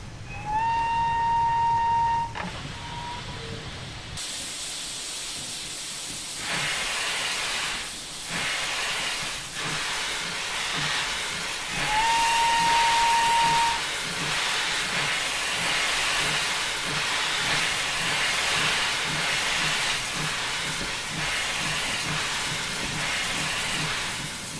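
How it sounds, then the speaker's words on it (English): A steam locomotive in the video game Train Simulator 2017 gives two sustained whistle blasts, one at the start and one midway, while loud, continuous steam hissing and rhythmic chuffing run throughout. "That is a beautiful sight to behold, isn't it? A steam train."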